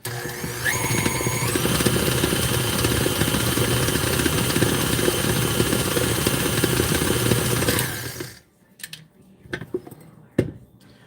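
A small electric hand beater from a dollar store mixes a cheese ball, droning loudly and steadily with a shifting motor pitch for about eight seconds before cutting off, followed by clinks and handling noises.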